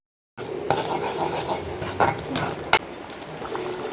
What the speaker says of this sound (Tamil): கொஞ்சமாக தண்ணி விட்டு நல்லா கொதிக்க வச்சுருங்க.